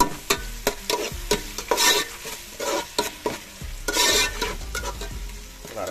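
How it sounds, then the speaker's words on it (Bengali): Onions and garlic with salt fry in a pan while a spoon stirs them, sharp scraping clacks repeating over a constant sizzle. "লাড়াচাড়া দিলাম"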